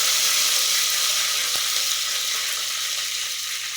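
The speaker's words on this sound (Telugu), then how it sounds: "నెక్స్ట్ ఆవాలు చిట్టుపట్టలాడాలి" Mustard seeds splutter and crackle in hot oil, a steady loud sizzle with scattered popping and one sharper pop, with no voices.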